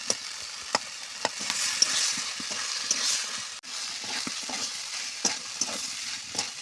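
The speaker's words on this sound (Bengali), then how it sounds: "সব কটা আলু দিয়ে আমি আবারও নাড়াচাড়া করছি" Potatoes and green peas fry in an iron kadai as a utensil stirs them, a steady bright sizzle broken by regular scraping knocks, close and alone with no talk.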